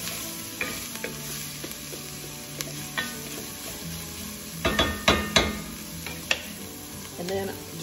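Oil and crushed red pepper sauté in a pot with a low, steady sizzle, and several sharp clanks of utensil against pot cluster near the end.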